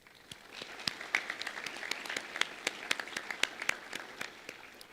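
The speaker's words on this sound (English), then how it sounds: "Please join me in giving them a round of applause." An audience at a White Coat Ceremony on the Cherokee Nation campus breaks into applause, a moderate, fairly distant patter of many hands clapping steadily throughout.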